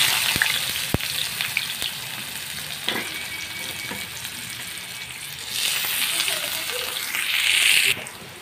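Onions and green chillies fry in a pan with a constant close sizzle and a few sharp pops, the hiss swelling louder near the end.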